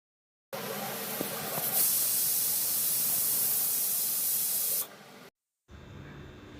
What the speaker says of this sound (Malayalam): അതിനുശേഷം നമുക്ക് കുക്കറിൻ്റെ അടപ്പ് വെച്ച് അടച്ചിട്ട് നമുക്ക് വേവിച്ചെടുക്കാം. 3 വിസിൽ മതി